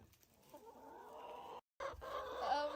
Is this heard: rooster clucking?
yes